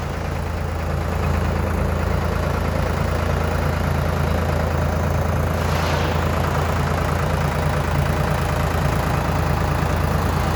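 Solis 50 tractor with cab and reverse, a heavy 3.4-tonne machine, idling steadily nearby with a low continuous diesel rumble, no talk over it.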